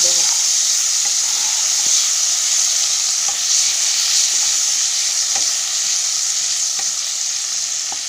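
Chopped onions fry in hot oil in a pan for masala chicken, giving a loud, steady sizzle with the occasional scrape of stirring, close up and with no talking.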